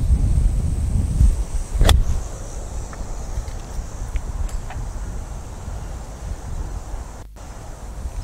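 Wind gusts across an outdoor golf course, a steady low rumble and broad hiss buffeting the microphone, strongest early on, with a faint brief knock and no talk.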